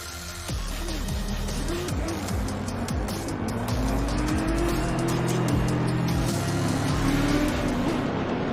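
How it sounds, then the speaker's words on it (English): Race cars on a warm-up lap in a PC sim racing championship. Several engines drone and rev steadily, cars sweep past one after another, and tyres squeal faintly, all loud and continuous with no talk. "The cars are on warm-up lap."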